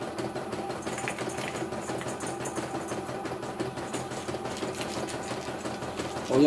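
A CNY E900 embroidery machine runs steadily, a fast even mechanical chatter of needle strokes with a constant motor whir underneath, close and moderately loud throughout.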